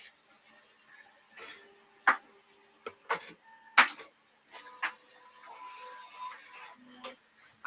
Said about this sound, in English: I also put my 3D printer on.